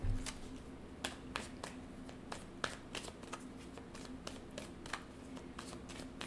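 Tarot cards are shuffled and drawn in a quiet room, a series of sharp, close riffling snaps and flicks at an irregular pace over a soft background hum.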